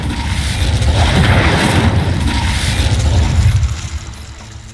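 The Incendio fire spell bursts out in Hogwarts Legacy as a loud, rumbling whoosh of flame with heavy low booming that swells, holds for several seconds, then fades.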